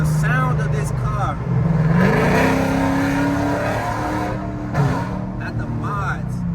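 A Dodge Charger R/T fitted with long tube headers revs close by, its engine note climbing and falling through a couple of throaty pulls while someone talks over it.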